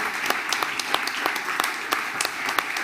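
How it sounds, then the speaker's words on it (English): A crowd claps in sustained applause, dense and steady with sharp individual claps standing out, filling the room for a few seconds. "Big applause, please."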